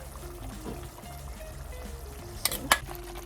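Thick tamarind paste bubbles and sizzles quietly in a pan, with a couple of sharper pops near the end.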